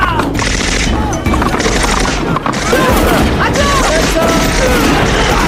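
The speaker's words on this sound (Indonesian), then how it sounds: "Para agen yang melihat keberadaan Jack dan Stavros mulai melepaskan tembakan" Loud, sustained rapid gunfire with booms and crashes, a dense chaotic battle scene with continuous shooting in an action film.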